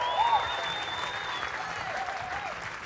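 Sustained audience applause from a crowd at a live forum event, a dense steady clatter of clapping heard up close and filling the whole stretch without a break.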